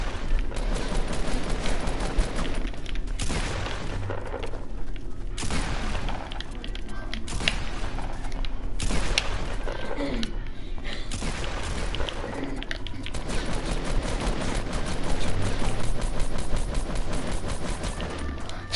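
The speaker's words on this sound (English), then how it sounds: "who the heck is shooting me?" Rapid video game gunfire rattles almost continuously, with sharp bursts and heavier booms layered over a dense, loud backdrop that barely lets up.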